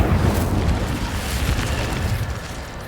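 In Hogwarts Legacy, the Incendio fire spell bursts into a steady, booming roar of flame that fills the space with low rumble and crackle, then slowly fades without dying out.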